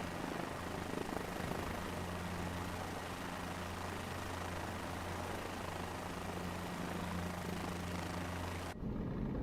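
Helicopter in Microsoft Flight Simulator 2024, a steady droning rotor and engine hum with a low throbbing tone, continuous and moderately loud for about nine seconds before cutting off abruptly.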